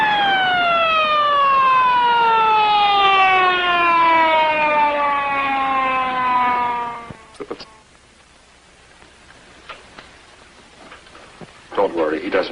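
An ambulance siren winds down in one long, loud descending wail that fades out after about seven seconds, leaving a quiet, rain-like hiss with a few faint clicks.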